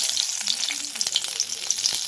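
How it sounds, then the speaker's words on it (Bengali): Cumin seeds and bay leaf frying in hot mustard oil for a horse gram dal tempering, a close, bright sizzle with quick crackling pops and light stirring, no voices. "সর্ষের তেল গরম করি প্রথমে জিরিয়া দিবেন তারপর দিবেন তেজপাতা"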